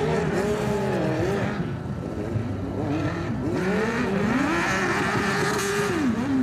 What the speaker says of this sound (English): I think he's going to struggle with that big engine through the moguls.